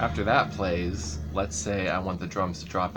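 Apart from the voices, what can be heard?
No everyday noise stands out behind the speech.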